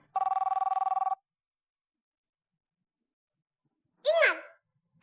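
A telephone rings once in a rapid trilling burst, then silence, followed by a brief sigh-like vocal sound.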